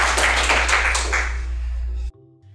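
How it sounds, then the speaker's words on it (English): Applause at the close of a podcast: a short burst of rapid clapping over a low hum that cuts off abruptly after about two seconds. "One more applause."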